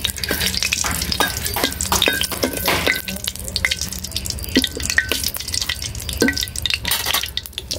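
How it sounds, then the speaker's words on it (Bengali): A dried red chili frying in hot oil to temper dal, a steady close crackle and sputter with dense popping and occasional stirring clinks throughout, fairly loud, with no talk. "ডাল বাগার দেওয়ার জন্য তেল দিছি আর একটা শুকনো মরিচ দিছি"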